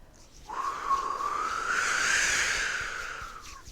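Hands rubbing together while breath is blown to imitate wind, a soft airy whoosh that swells after half a second, holds steady and slowly fades, close and alone with no talking.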